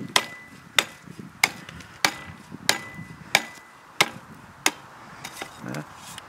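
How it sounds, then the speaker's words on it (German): A hoe striking frozen horse manure in a winter paddock, about ten sharp, close thwacks at a steady pace of roughly one per second, with faint crumbling in between. "Jetzt nehmen wir mal die Hake, weil die wurde auch relativ oft genannt. Das heißt also einfach hier draufschlagen."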